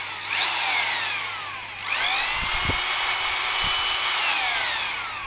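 A handheld power screw drill whirs loudly and alone, its motor winding down near the two-second mark, then spinning back up to a steady high whine for the rest of the clip.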